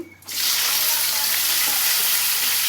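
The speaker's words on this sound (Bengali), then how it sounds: "পেঁয়াজ কাঁচা মরিচ দিয়ে দিলাম একটু ভাজা হলেই" Onion and green chili hit hot oil in a pan with a sudden loud burst of sizzling that settles into a steady, dense frying hiss, close and continuous with no talking.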